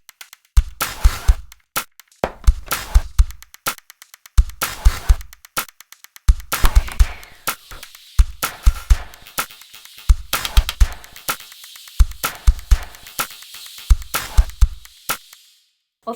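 A beat built from makeup palette sounds loops in short repeating bars, with crisp clicks and taps layered over deep thumping kick-like hits, steady in rhythm and without any voices.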